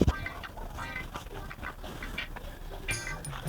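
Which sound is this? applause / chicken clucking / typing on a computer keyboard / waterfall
chicken clucking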